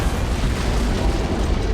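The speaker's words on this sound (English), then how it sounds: "It must have been one of their boarding parties. I'd guess an antimatter charge." An antimatter charge detonating aboard a ship in Halo: Combat Evolved, heard as a loud, sustained low rumbling blast filling the whole moment without any voices.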